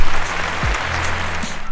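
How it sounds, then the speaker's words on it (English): Round of applause from a small group, dense clapping throughout with a low hum and a couple of brief low thumps underneath, fairly loud and steady. "So let's give him a round of applause."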